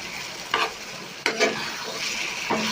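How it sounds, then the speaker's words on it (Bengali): Mashed spoiled hilsa fish is stirred and fried in a pan. A steady close sizzle is broken by about three distinct scraping stirs, with no voices. "এটাকে খুব ভাজা ভাজা করবো, এটাকে নাড়াচাড়া করতে করতে করতে করতে একদম ভাজা ভাজা করবো।"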